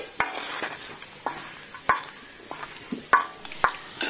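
Beans stirred and frying on a plough disc with onion and peppers, a steady sizzle broken by repeated sharp scraping clacks of a utensil against the metal, about eight strokes spaced across the stretch, near and alone.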